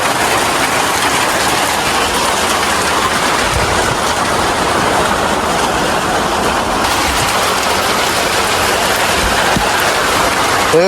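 A downpour drums steadily on a tin roof, a loud, constant wash of rain noise with no pauses or voices across the whole stretch.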